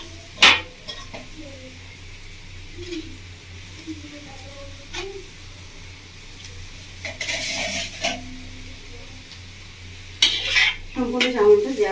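Chow mein with mushroom being stirred and mixed in a pan, with scattered clinks and scrapes of a utensil against metal over a quiet background, a few louder clatters near the start and end, and a faint voice at moments.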